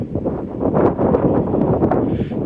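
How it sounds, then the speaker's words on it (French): Strong wind buffets the microphone outdoors on a mountain hike to Grassi Lake in Alberta, a steady, loud, rumbling roar that fills the whole moment with no other sounds standing out. "Désolé s'il y a beaucoup de vent et que vous entendez pas grand chose."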